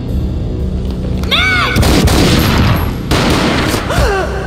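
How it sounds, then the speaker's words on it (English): A gunshot in the video game Max Payne booms as a loud broadband burst over a dense, noisy game soundscape, with a second sharp blast later and brief rising tonal sweeps around it. "A gunshot boomed and she fell down in slow motion."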